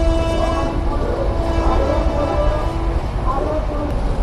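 A through train passes Court Road station at Lalbagh with a continuous rumbling roar and a faint horn tone underneath, the sound staying fairly loud and steady throughout.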